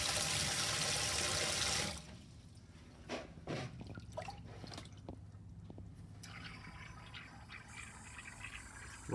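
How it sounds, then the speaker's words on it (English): Water sloshing in a sink as a punctured scooter inner tube is held under it, with faint trickling and small bubbles, quiet and close, after a louder rush of running water at the start. "A little bit of water in the sink, and be able to see where the bubble's coming out of"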